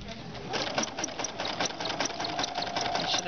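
A sewing machine with a transparent free-motion foot stitches a zigzag along a fabric petal edge, a steady fast mechanical chatter close by, with people talking faintly beneath.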